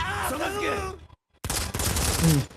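Gunfire in the Modern Combat 5 mobile shooter game, bursts of rapid in-game shots heard alongside an excited voice, cut by a brief silent gap before more firing resumes.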